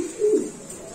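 A Lahori pigeon at a pigeon farm gives a single low, soft coo, close by, with faint background hiss.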